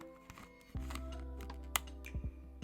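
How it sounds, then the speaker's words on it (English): Refurbished Nintendo Switch clicking: a few faint, sharp clicks and taps close by over a low steady hum, with one soft thump partway through. "look at it, hear this click."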